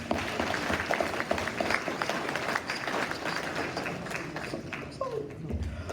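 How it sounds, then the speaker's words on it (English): An audience at a school red carpet gala claps in a lively, continuous round of applause, with a few voices mixed in among the hands. "him another round of applause."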